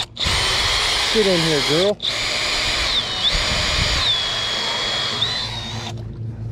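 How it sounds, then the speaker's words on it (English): A cordless power drill rigged as a homemade fishing reel whines steadily while reeling in a hooked fish, its pitch wavering slightly with the load, under excited talking close by. "we just caught a fish with a freaking drill"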